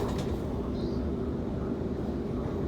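A Sydney Trains T9 suburban A-Train travelling from Central to Epping, heard from inside as a steady low rumble and hum of wheels and motors, continuous and fairly loud with no talk.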